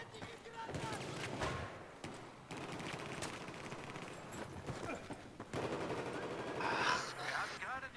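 Rapid gunfire in a Battlefield 4 clan match, bursts of automatic and single shots fairly quiet and slightly distant, with game noise between them and a louder flurry near the end.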